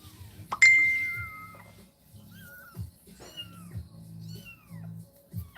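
A young kitten meows several times in short, thin, high-pitched cries, starting with a sharp clear call and followed by softer repeated mews, close by, with low handling noises underneath.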